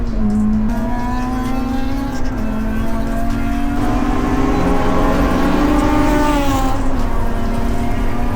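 Several cars drive and rev on a race track during an early-morning track day warm-up, including a Honda Civic FD2 on the circuit; a steady, loud engine drone with rising and falling pitch continues throughout.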